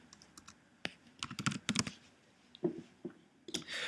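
A few sharp keystrokes click on a computer keyboard in quick clusters, close and fairly quiet, as a shortcut is pressed during Photoshop work, with no talking.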